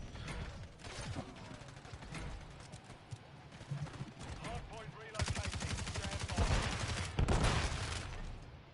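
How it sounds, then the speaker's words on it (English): Call of Duty gunfire on the Shipment map, shooting through a wall: rapid automatic bursts and scattered shots that grow louder and denser toward the end, over busy game noise and some talk. "I'm just going up to a wall that I know I can shoot through and hoping for the best"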